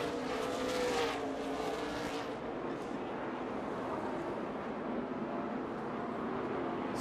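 NASCAR Nationwide Series race cars roar past on the Mid-Ohio road course, a loud engine drone that swells near the start and then settles into a steady distant whine.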